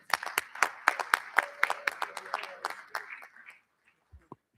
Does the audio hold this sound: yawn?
no